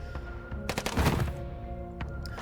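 Gunfire from the video game Snowbreak: a short burst of rapid, closely spaced shots, loud and near, with a rumbling tail under a steady background hum.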